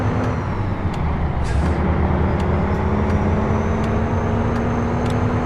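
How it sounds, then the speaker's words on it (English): A truck engine drones loudly and steadily, revving up through the gears with a rising whine as the driver shifts, plus a brief hiss of air brakes. "You can really hear the truck winding out those gears."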